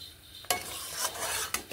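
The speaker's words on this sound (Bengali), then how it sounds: "এখানে জল দিয়ে দিচ্ছি।" Water is poured into a pan of sizzling spices, giving a sudden loud hiss that rises and then settles into a steady frying crackle, with a second burst near the end as stirring continues.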